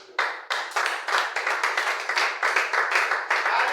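A church congregation applauds together, a dense run of rhythmic clapping that carries steadily through the whole stretch at close range, with no talk over it.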